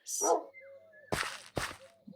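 Dogs in the Minecraft video game: a high yelp opens, then two sharp, loud barks follow about half a second apart over a quiet game background.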